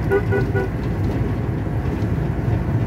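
A camper van rolls slowly along the road at low speed, its engine a steady, close, droning rumble with road noise, plus a few brief tonal beeps near the start.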